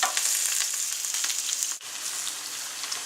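Potatoes for patatas pobres sauté in a hot pan, giving a loud, steady close-up sizzle with a brief dip partway through as they are stirred.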